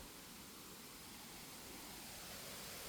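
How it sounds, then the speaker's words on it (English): Steady, faint broadband rush of the Llanos de Cortés waterfall in Costa Rica heard from above, a continuous hiss of falling water with no voices over it. "so there's the waterfall from above"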